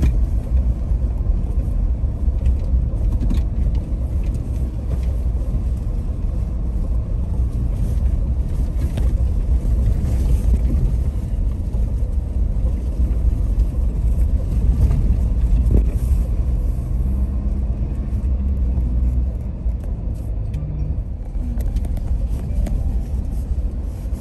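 A car drives along a road toward a coffee farm in Yunnan, its steady low engine and road rumble continuous and close throughout, with no talk.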